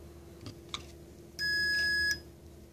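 A steady electronic beep sounds once for under a second, clear and fairly loud against a quiet background, after a couple of faint clicks, from a switch during a Mercedes E420 throttle body bench test.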